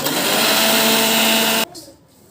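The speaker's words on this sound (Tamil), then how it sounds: "இப்போ நான் வந்து மிக்சியை மூடி அரைக்க போகிறேன்" A mixer grinder whirs loudly and steadily while blending rose milk, then cuts off abruptly, leaving a brief quiet tail.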